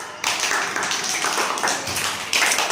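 A class of children claps together in a classroom. The sound is a dense, steady wash of many small hands that starts abruptly and runs loud and continuous to the end.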